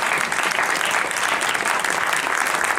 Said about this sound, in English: let's give you a round of applause for being here tonight